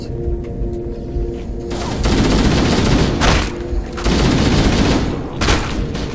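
Plasma grenade explosions and bursts of gunfire from a Halo Anniversary (MCC) Legendary match, with loud, dense, continuous shooting and several heavy booming blasts that swell and drop over the span.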